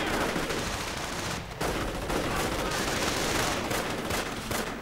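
Sustained automatic gunfire from a World War II strategy game, with rifle and machine-gun fire blending into a continuous loud clatter that barely breaks for the whole stretch.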